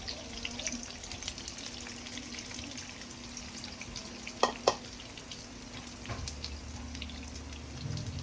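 Eggplant and egg for tortang talong fry in a pan with a continuous soft sizzle, broken by a couple of sharp pops and crackles midway, at low volume with a light background hum.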